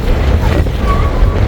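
Gusty wind buffets the microphone outdoors in rainy weather in the UAE, a steady low rumble filling the whole stretch with faint voices in the background.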